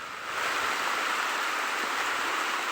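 Heavy rain pours down in a dense, steady hiss that swells in after a brief quieter moment and then holds constant, close and loud, with no voices.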